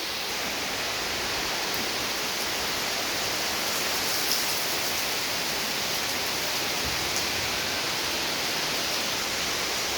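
Heavy rain pours steadily as a dense, constant hiss that stays even and close throughout, with no voices or other sounds.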